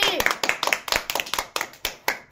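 A group claps hands at a children's chips-and-noodles challenge game, with a dozen or so sharp, uneven claps, close and lively, mixed with voices talking.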